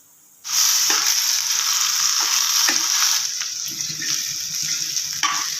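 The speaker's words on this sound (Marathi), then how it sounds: "धणे भाजून मी काढून घेते आणि दुसरा लॉट असंच भाजून घेते" Coriander seeds dry-roasting in a pan while being stirred, a steady bright rustling sizzle with soft scraping strokes, close and continuous for several seconds with no talking.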